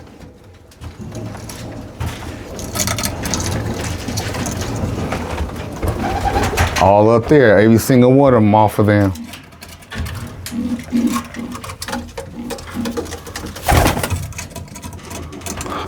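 Roller pigeons coo in a loft, soft rolling warbles heard under a voice, with one clearer burst of cooing in the middle amid steady background noise.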